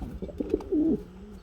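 Barhuma pigeons in a red cage coo in a short, close burst of soft throaty notes that ends in a steadier rolling coo.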